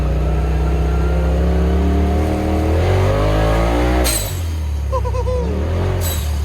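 A turbocharged Razor off-road vehicle revs and accelerates on ice at a drift course, its engine note loud and close and rising steadily in pitch, with a brief gap before it pulls hard again.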